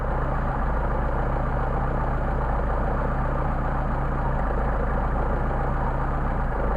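A Mercedes 190SL engine idles on Solex carburetors with a steady low rumble, continuous and close, while the idle mixture screws are adjusted; no one speaks.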